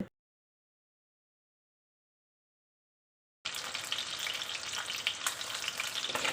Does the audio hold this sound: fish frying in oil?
yes